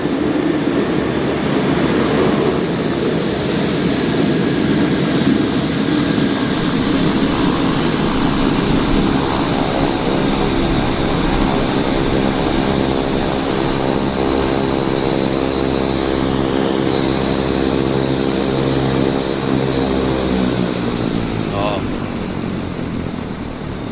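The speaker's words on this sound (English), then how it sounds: "I'm glad they killed those engines quick because it's noisy" Beechcraft 1900D twin turboprop engines roar loudly at an airport, a dense broadband drone with a steady tonal hum that eases off near the end as the engines are shut down; someone talks over it.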